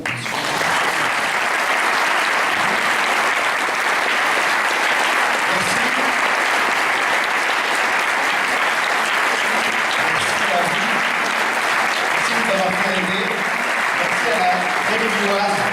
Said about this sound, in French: Merci beaucoup, on peut applaudir